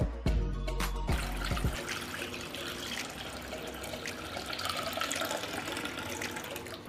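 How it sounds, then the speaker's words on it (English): Water pours into a pot holding glass jars on a kitchen towel, a steady close splashing flow that starts with a few knocks and carries on evenly. "I will pour water up to the height of the lid."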